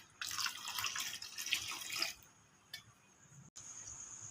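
Water poured into a cooking pot as a steady splashing stream for about two seconds, then a quieter trickle and a few faint drips.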